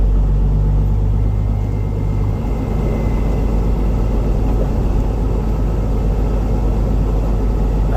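A snow-hauling truck rumbles loudly from inside the cab while its Jake brake drones in a low, steady growl that shifts in pitch partway through, with no talking.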